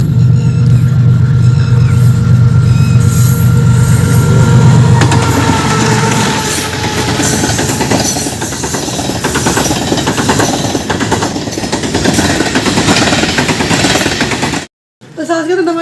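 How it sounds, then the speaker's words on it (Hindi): Freight train rolling through a railway crossing at a station, loud and close, with a heavy low rumble, rhythmic clatter of wagons over rail joints and metallic squeal that continue steadily before cutting off abruptly near the end. "जेठा बुठा रेलवे स्टेशन से मालगाड़ी का गुजर हो रहा है"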